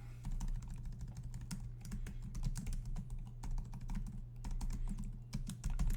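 Rapid typing on a computer keyboard while renaming asset names in project software: a steady stream of close, crisp key clicks that continues for several seconds over a low, constant background hum.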